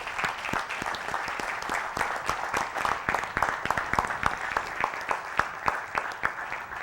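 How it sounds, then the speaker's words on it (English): Group of people at a livestreamed gathering claps for a guest, individual hand claps distinct and fairly close, moderately loud and uneven in rhythm, continuing steadily without talk. "Give Mr. Yahuwah a hand clap."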